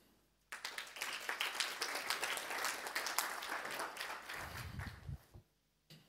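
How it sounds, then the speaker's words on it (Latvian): Audience applause at an investment forum greets the next speaker, steady sustained clapping from a crowd for about five seconds before it tapers off, with a brief thump near the end. "aplausi."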